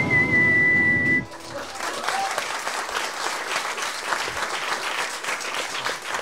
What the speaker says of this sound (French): Et l'arbitre qui siffle la fin de ses prolongations!